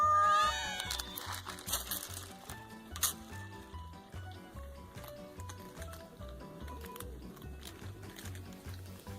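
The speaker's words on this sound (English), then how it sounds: "Oh, that's a lot of cats. So many cats." A crowd of cats meows over and over in the video game Date Everything, the loud overlapping mews and caterwauls rising against a steady pulsing game music track.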